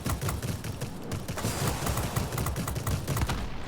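Rapid bursts of heavy aircraft cannon fire in World of Warplanes rattle continuously, a dense stream of sharp repeated shots with a steady, fairly loud pounding rhythm.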